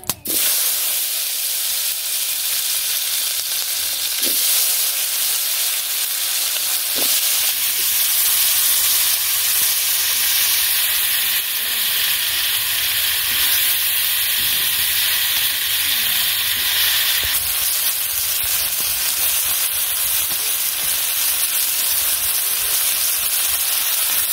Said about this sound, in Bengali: তেলটা গরম হয়ে গেছে, দিয়ে দিই শসা